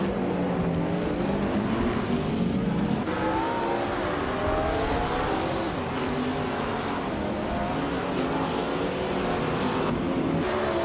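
Race cars driving in a race, several engines droning and revving together in a loud, continuous blend with rising and falling pitch, steady throughout with no talking.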